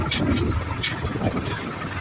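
A newly bought tractor runs along a highway with a steady low engine rumble and a few brief louder surges, close and without talk.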